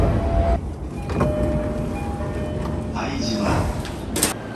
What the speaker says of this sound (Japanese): 拝島駅に到着